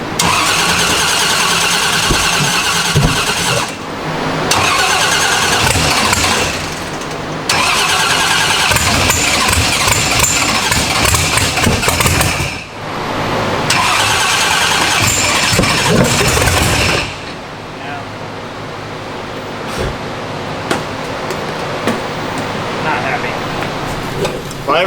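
A race car engine with off timing cranks repeatedly in long loud bursts separated by short pauses, never catching, then falls to a quieter rough background noise at the end.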